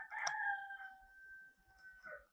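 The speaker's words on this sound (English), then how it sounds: "These chickens, bro." Chickens crow and cluck nearby, a loud rooster-like call at the start and another rising call near the end, with quiet gaps between, alone without talk.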